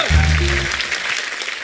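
An audience claps together in a broad, sustained burst of applause, opening with a brief low vocal tone before the clapping carries on evenly.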